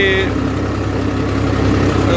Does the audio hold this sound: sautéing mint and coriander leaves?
no